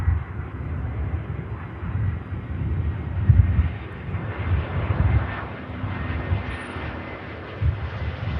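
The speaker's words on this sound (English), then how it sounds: "Huge flare from the EasyJet. The aircraft down safely." An EasyJet airliner landing at Manchester Airport in blustery weather, its engines giving a loud, sustained low roar that swells and fades slightly as the aircraft comes down onto the runway.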